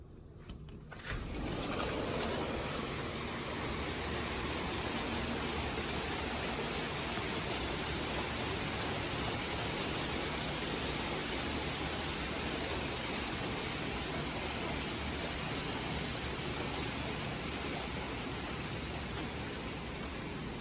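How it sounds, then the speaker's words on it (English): Steady rain falls outside a studio, a broad, even hiss that holds at the same loudness for about twenty seconds after a brief quiet start, with no talk over it. "So I am really, really excited that it's raining right now."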